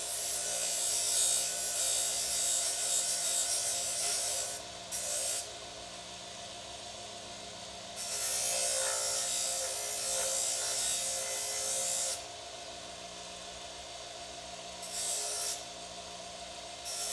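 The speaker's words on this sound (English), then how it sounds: "So we will go ahead and hit it on the grinder and take that burr off of there." A bench grinder takes a burr off a metal suspension hook, running as a steady rough whir and buzz, with several bursts of harsher, louder grinding as the piece is pressed against the wheel.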